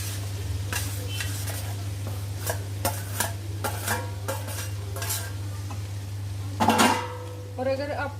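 Okra is tipped into a pan of softened tomatoes with soft sizzling, a series of sharp spoon-on-pan scrapes and clinks, and a louder clatter near the end over a steady low hum.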